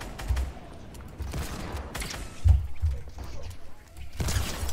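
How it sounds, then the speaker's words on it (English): Gunfire in Fortnite: rapid bursts of shots and low impact thuds, with a heavier blast midway, mixed with a voice talking over the game action. "I'm gonna shoot this kid while he comes"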